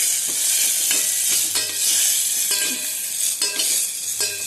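Rice semolina upma being stir-fried in a pan, a continuous close sizzle with repeated scraping strokes of a spoon across the pan bottom.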